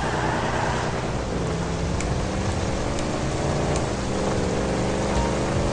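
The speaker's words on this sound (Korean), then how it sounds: "비가 오구만" Rain and thunder in the video game GTA 5 form a dense, continuous roar of rainfall with low rumbling beneath it, loud and unbroken throughout.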